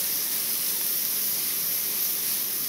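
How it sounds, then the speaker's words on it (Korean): Minced garlic and onion being stirred in a hot pan coated with cooking oil produce a steady, close sizzling hiss that continues evenly and unbroken throughout. "이 달궈진 팬에 지금 바로 이 다진 마늘이랑 양파 넣어주고 잘 섞어줘요"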